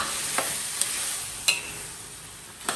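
Pork for sinigang being stirred in a pot, a low sizzling bed broken by a few sharp scraping strokes of the spoon, close and fairly quiet, with no voices.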